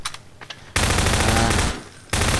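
Rapid automatic gunfire in the video game Prop Hunt, a loud sustained burst that stops briefly and resumes, preceded by a few fainter scattered shots.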